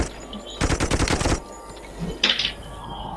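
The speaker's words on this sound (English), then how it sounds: "look at this soldier, how his ass is bumping up and down while he fires the machine gun" A toy soldier fires a machine gun in the video game Toy Soldiers: a loud, rapid burst of shots lasting under a second, followed by quieter game sounds and a short bright clatter.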